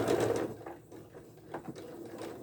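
A home sewing machine chain-stitching pinned four-patch quilt blocks, its motor whirring close and steady, loudest at the start and then running on more softly with brief pauses.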